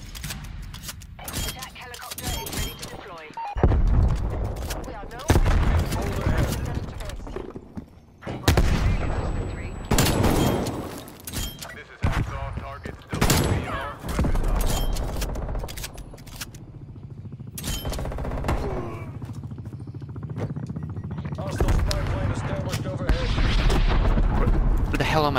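Call of Duty Cold War gameplay with repeated loud, close gunfire bursts and sharp blasts scattered across the stretch, separated by brief lulls, with a player talking over much of the action.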